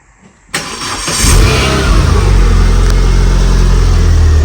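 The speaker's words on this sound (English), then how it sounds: "start her up and see if it starts leaking" A Renault Clio fitted with a swapped Megane R26 engine cranks briefly and fires up, then settles into a loud, steady rumbling idle close by with a slight rise in revs.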